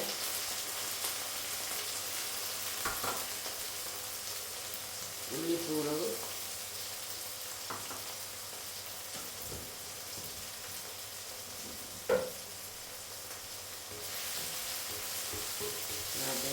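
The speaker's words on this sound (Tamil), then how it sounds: "சேர்த்து வதக்குவோம் வெங்காயம் வறுத்து கொண்டு வந்தது" Onion, green chili and curry leaves sauté in a pan for a fish curry, giving a faint, steady sizzle. Occasional stirring scrapes and a couple of brief clatters sound through it.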